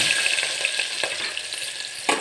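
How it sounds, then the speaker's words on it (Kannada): Onions sizzle steadily in hot oil for a mutton gravy, a loud, continuous crackling hiss with occasional stirring scrapes. "ಈಗ ಎಣ್ಣೆ ಕರೆದಿದೆ ಇದಕ್ಕೆ ಒಗ್ಗರಣೆಗೆ ನಾವು ಇಟ್ಕೊಂಡಿರೋ ಅಂಥ ಈರುಳ್ಳಿನ ಹಾಕೋಣ"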